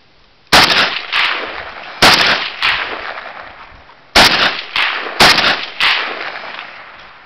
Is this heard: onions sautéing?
no